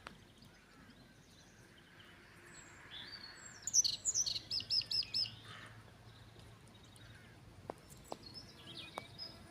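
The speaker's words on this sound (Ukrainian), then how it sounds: "Дякую ще пташечкам" Birds chirp outdoors in a quick series of high, bright calls in the middle, fairly faint over a quiet background with distant ambient hum.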